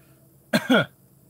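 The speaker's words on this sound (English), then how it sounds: "Just a little cough and full sinuses." A single short cough from a person getting over a cold, two quick raspy bursts close to the microphone with silence around them.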